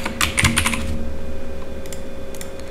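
Rapid clicking of a computer keyboard as an app name is typed, a quick close cluster of keystrokes followed by a few scattered taps over a low steady hum.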